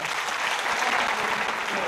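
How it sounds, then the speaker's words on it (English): Audience applause at a school awards night, a dense, steady wash of clapping from a crowd filling the hall without a break. "So please, clap it up for Luca Stavola."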